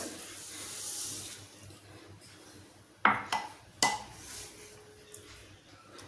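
Half a glass of water is poured into a mixer jar with milk powder and sugar, a faint trickle followed by two sharp clinks and a short splash, quiet overall with no talking.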